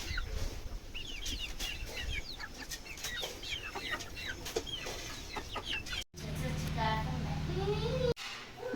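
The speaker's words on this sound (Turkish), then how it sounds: "Horoz mu şunlar tavuk gibi sanki" Chickens cluck and call around a farmhouse in a fast run of short, sharp, close notes, with a voice faintly underneath at times.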